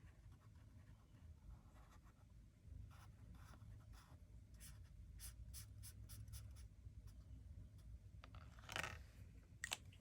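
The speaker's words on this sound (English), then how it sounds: "So we're going to color in 2 more trees." A marker colours in small tree shapes on a paper savings-challenge tracker, a quiet, close scratchy scribbling of repeated short strokes over a low background hum, with a slightly louder rustle near the end.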